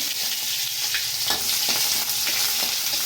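Onion and garlic paste fry in oil with a bright, steady hiss and spatter while a spoon stirs and scrapes at intervals, loud and close, with no speech.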